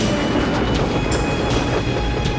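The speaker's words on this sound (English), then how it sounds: "That's the Serbian army train." Serbian army train running on a track in The Last Express, a loud steady rolling rumble with faint rhythmic wheel clicks and a thin high whine, close and continuous.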